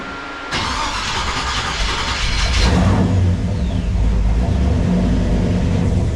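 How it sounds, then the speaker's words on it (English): A 1956 Chevrolet Bel Air V8 with a carburetor being tuned cranks and restarts after a brief quiet moment, then settles into a loud, steady, rough idle close by with no talking. "I'm so proud of the fact that it just restarts."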